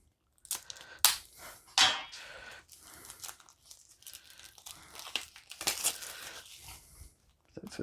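Marvel United X-Men board game packaging being opened, with irregular bursts of tearing plastic wrap and crinkling film, a few sharp rips standing out close up between quieter rustles.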